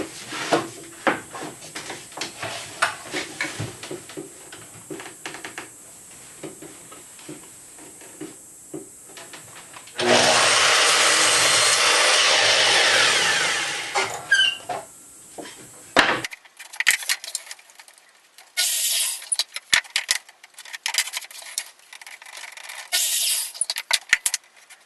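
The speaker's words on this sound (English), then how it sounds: "I'm just going to cut them one at a time. I'll cut the first one" A power saw cuts a piece from a long wooden board for a patio plant stand, one loud rasping cut of about four seconds set among lighter knocks and clatter as the wood is handled.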